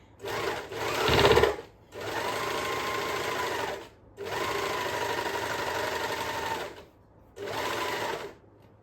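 An overlocker sewing machine stitching fabric scrunchies runs in several sustained whirring bursts of a few seconds each, separated by brief stops, loud and close.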